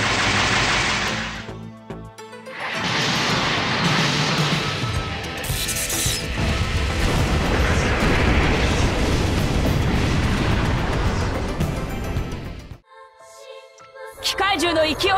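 Machine gun and missile fire from the mecha strategy game Super Robot Wars 30, a dense sustained barrage of rapid shots and blasts with a brief gap near the start, ending abruptly in near silence before a final burst.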